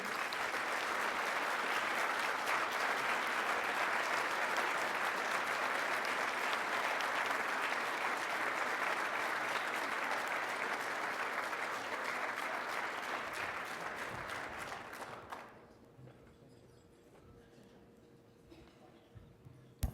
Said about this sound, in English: could we have your applause for all of their hard work?